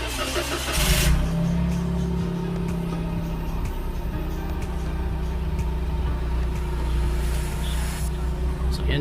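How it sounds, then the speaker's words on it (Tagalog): A Toyota Wigo car engine starts with a low mechanical crank, then settles into a steady idle hum that stays loud and close for the rest of the clip. "paandarin po natin yung sasakyan."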